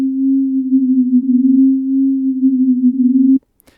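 A sine-wave synth pad built in Native Instruments Massive with three unison voices holds a steady, loud low tone for about three seconds, gently wavering and beating, then cuts off abruptly into silence.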